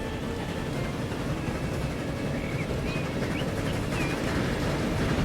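A train rolls past steadily in the rail game Transport Fever, with a continuous low rumble and faint wheel squeals rising now and then above it, sustained and fairly close.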